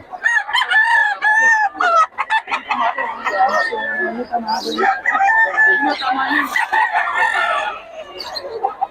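Several roosters crow over and over close by in Bocaue, overlapping one another, with clucking hens and a busy farmyard background.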